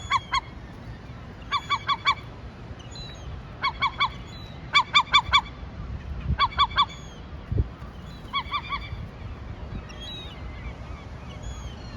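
Bursts of loud, harsh seagull calls come in short repeated clusters, honking and squawking over a low background rumble in Portland, Maine.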